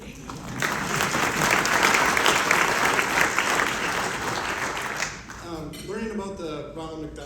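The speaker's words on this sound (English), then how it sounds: "a round of applause for sure" Sustained applause from an audience at a Ronald McDonald House family event, loud and dense for about five seconds, then fading as voices take over.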